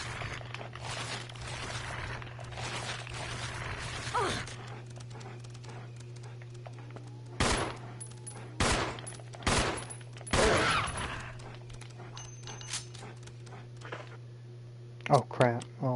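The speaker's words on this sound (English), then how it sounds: "Okay, I'm gonna use the pistol on this guy" Pistol shots in the game Resident Evil Remake, a handful of sharp, loud cracks spaced a second or so apart over a steady background hum, with a quick double shot at the end.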